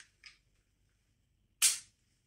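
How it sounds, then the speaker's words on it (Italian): An unloaded pistol dry-fired: a faint metallic click followed about a second later by a louder, sharp trigger snap, each brief and close against near silence. "Fate il colpo di prova puntando sempre."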